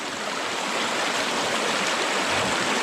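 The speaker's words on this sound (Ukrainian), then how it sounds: "О! Горна річка." A mountain river high in the Carpathians rushes past nearby with a loud, continuous broadband roar of flowing water, steady throughout and with no voices.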